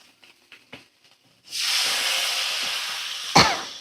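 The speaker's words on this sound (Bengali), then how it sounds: "এইবারে আমি জল দিয়ে দেব।" Water is poured into a hot pan of frying spices: after a few quiet clicks, a sudden loud hiss of steam bursts up and holds steadily, with a sharp knock near the end.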